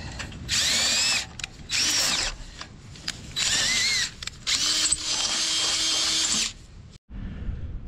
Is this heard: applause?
no